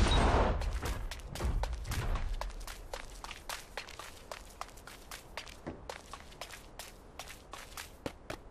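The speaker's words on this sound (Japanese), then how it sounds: "銃声が聞こえた。" Gunfire in the video game Super Mecha Champions: a rapid string of sharp shots cracking in quick succession, loud at first, then lighter and evenly spaced.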